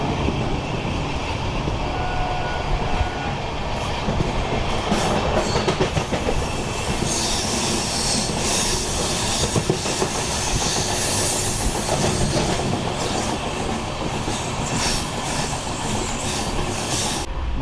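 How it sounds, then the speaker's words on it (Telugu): The Tirupati–Sai Nagar Shirdi weekly express leans through a curve past Kalasi station, wheels clattering rhythmically with intermittent high squeals and a constant loud rumble, no voices. "మన ట్రైన్ కరువు తీసుకుంటుంది"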